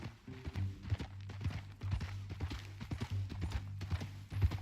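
Horse hooves clip-clop in Red Dead Redemption 2 at a steady walking rhythm, each step sharp and close, over a low droning background hum, with no talk.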